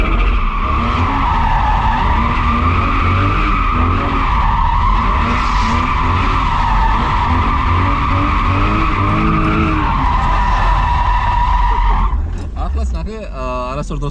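A car drifting, its tires skidding in a long, loud, sustained squeal that wavers in pitch for about twelve seconds, then breaks off into shorter chirps. The engine drones beneath it.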